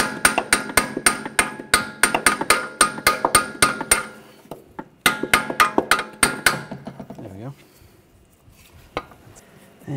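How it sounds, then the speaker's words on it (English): Sharp metallic hammer strikes on a punch ring out in rapid bursts, a quick series of blows, a pause, then another run of hits, loud and close, while removing a tie rod bolt on a 2004-2009 Audi A4 Quattro. "hammer it down"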